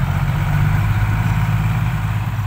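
An engine with an illegally loud exhaust pipe runs close by with a throaty, steady exhaust rumble, holding a rough idle rather than clear revs.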